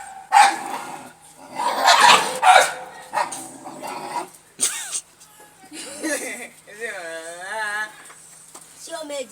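A dog barks and growls in sharp bursts, some loud and close, with whining yelps later, while people talk over it throughout.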